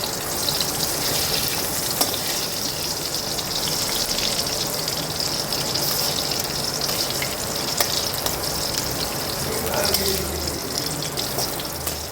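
Food fries in a pan with a constant crackling sizzle, mixed with running water and a few stirring clatters, all close and steady with no voices.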